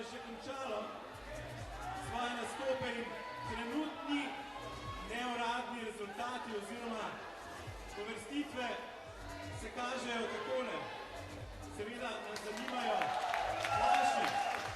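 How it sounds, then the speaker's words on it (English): A local crowd applauds a climber topping a boulder at an IFSC bouldering World Cup qualification round in Log-Dragomer, a steady wash of clapping heard at a distance under continuous commentary. "Round of applause from the local crowd here."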